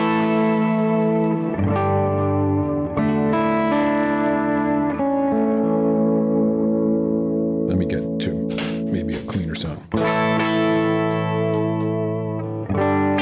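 Duesenberg Starplayer TV electric guitar played through effects with distortion and chorus, sustained chords wavering under its subtle tremolo system, with a burst of brighter strummed and picked notes near the end.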